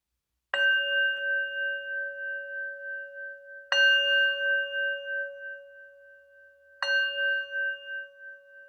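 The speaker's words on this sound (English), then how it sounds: "And I'll ring the bell." A meditation bell is struck three times at slow, even intervals, each strike a clear, close ring whose pure sustained tone slowly fades before the next, in an otherwise silent room.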